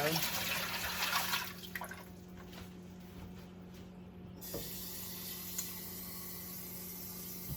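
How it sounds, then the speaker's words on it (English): Hot water pours noisily from a tap into a 23-quart Presto pressure canner, loud for the first second and a half, then continuing as a softer steady trickle with a faint hum behind it. "It says to add 3 quarts of hot water to your canner."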